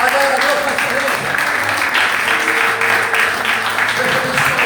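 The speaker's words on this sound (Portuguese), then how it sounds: "Adore com suas palmas ao Senhor" Worshippers in a church clap their hands in praise, a continuous busy patter of applause mixed with music and voices, loud and close throughout.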